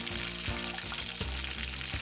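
Food crackles and sizzles loudly in hot oil, a dense, continuous frying hiss with bubbling pops throughout, close and steady.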